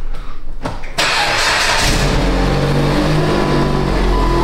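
A Dodge Avenger with a bad wheel bearing and its engine warning light on cranks briefly, then catches with a loud roar and settles into a steady, close idle.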